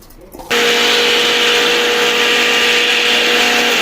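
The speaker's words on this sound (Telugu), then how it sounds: "ఇదే నీళ్ళు కొద్ది కొద్దిగా పోసుకుంటూ మెత్తగా మిక్సీ పట్టుకోవాలి" A kitchen mixer grinder grinding soaked flattened rice with water into bread dosa batter switches on after a brief pause and runs as a loud, steady, high-pitched whirring drone.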